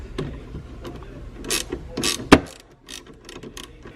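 A hand ratchet with a 10 mm socket loosens a car battery's negative terminal, giving several quick clicking and rasping strokes close up, with one sharp metallic snap near the middle.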